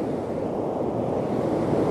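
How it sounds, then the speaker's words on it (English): Ocean waves on the beach at South Padre Island make a steady, rumbling roar of surf mixed with wind buffeting the microphone, continuous and fairly loud. "And of course the waves."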